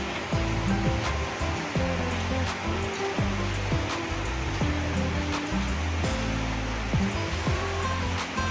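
Hot water is poured into chicken curry frying in its spices, a loud, continuous rushing splash and hiss that fills the whole stretch up close, with no one speaking.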